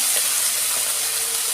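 Ginger and garlic sizzle in hot oil in a pan, a steady close hiss of frying with no voices.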